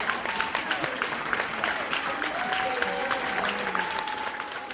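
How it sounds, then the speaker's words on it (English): An enthusiastic small crowd claps and cheers, with whoops and high voices rising over the applause, sounding like a children's birthday party. "Ridiculous crowd noises. It's like a children's birthday party crowd."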